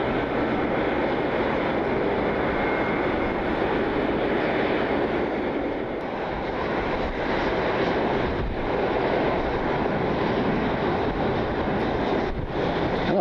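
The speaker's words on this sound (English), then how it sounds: "Seven 737 MAX 9 pulling into the gate for United Airlines." United Airlines Boeing 737 MAX 9 taxiing to the gate at Cleveland Hopkins International Airport, a steady, loud, broadband jet engine rumble with continuous roar throughout, heard close and alone.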